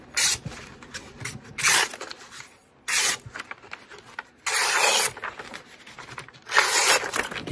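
A black Micarta-handled LT Wright GEN 3 knife slices through copier paper in several close, crisp bursts of scraping and tearing separated by short quiet gaps.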